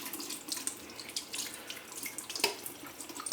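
A tap runs steadily into a sink to rinse a razor during a beard lineup, a soft, close trickle with small splashes and a brief clink partway through.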